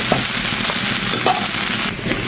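Okra and potato pieces stirred in a hot frying pan, with a brief close sizzle and a few light utensil scrapes heard alone, no voices.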